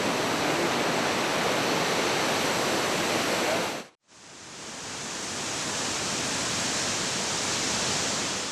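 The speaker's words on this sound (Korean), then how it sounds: "이야, 여기서부터 물소리가 대단하네요." Dense, roaring rush of water from a steep mountain river in eastern Tibet, loud and continuous, with a momentary cut midway before the torrent resumes just as strong.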